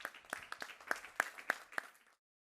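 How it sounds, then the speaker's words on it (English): Brief scattered clapping from a small audience at a pitch event, about a dozen distinct claps that fade out after two seconds. "Let's give him a round of applause."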